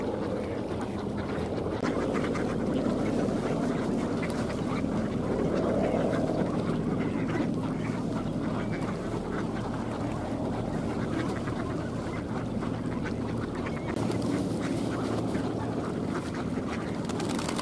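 Ducks wintering at Tsarskoye Selo in late November quack on and off over the water against a steady outdoor background hum, the calls fairly soft and scattered throughout.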